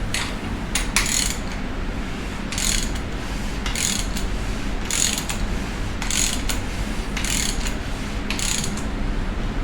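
A 3/8 ratchet clicks in quick repeated bursts while tightening bolts on an LS engine during cam installation, close and loud, with short pauses between strokes.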